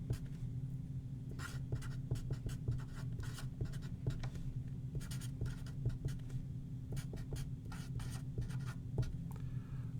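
A pen writes out chemical equations by hand in a quiet room. It makes a rapid series of light scratchy strokes and taps over a low steady background hum, with no talking.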